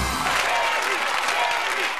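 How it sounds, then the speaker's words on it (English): A studio audience at a Dancing With the Stars ballroom dance show breaks into loud, dense applause and cheering, a continuous wash of clapping and crowd noise filling the whole moment. "The crowd went wild"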